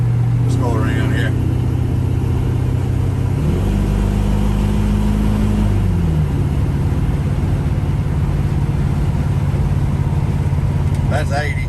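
A 1970 Chevrolet C10 pickup with an LS engine swap drives hard and loud close up, its engine droning and shifting pitch as it revs through gears, with brief tire noise and talk over it.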